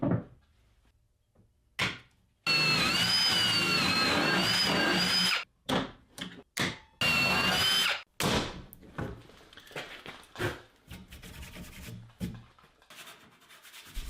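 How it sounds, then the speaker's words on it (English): A power drill with a brad point bit drilling dowel holes in an ash bed frame whirs in two sustained bursts with a rising and falling whine, followed by scattered rubbing, scraping and knocking sounds. "I switched over to a brad point bit"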